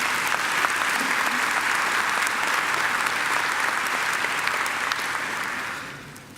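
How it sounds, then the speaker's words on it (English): A large graduation ceremony audience breaks into sustained applause, a broad, dense wash of clapping that holds steady before fading out near the end. "I think she deserves another great round of applause."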